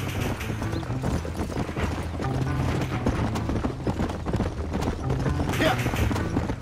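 Hooves of a ridden horse in Red Dead Redemption, a continuous clip-clop rhythm mixed under a dense bed of music and voices, moderately loud and steady for the whole stretch.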